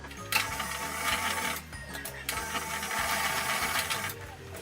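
A sewing machine stitches a skirt seam in rapid mechanical bursts, runs a few seconds, pauses briefly and starts again, heard close up with no talking.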